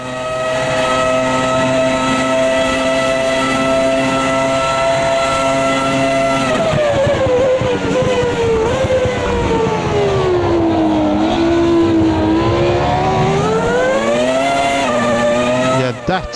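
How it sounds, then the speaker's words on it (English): A Porsche Cayman GT4 race car in the AMS2 racing game, heard from a chase camera, revs loud and alone, holding a steady high note, then dropping sharply through a gear change before climbing and falling again under load. "now you hear the engine a lot."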